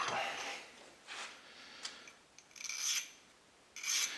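Fine stone smoothing over a gun extractor to reduce friction, several short, separate scraping strokes, quiet and close, with brief pauses between them and no voices.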